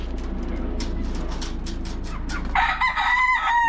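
A rooster crows loudly up close near the end, with hens murmuring and clucking softly before it at feeding.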